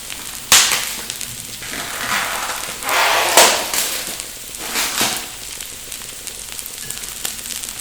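Beef hanging steak frying in a pan with onions, a loud sizzling hiss that flares in several sharp bursts as the meat is added and stirred, then settles to a steady crackle.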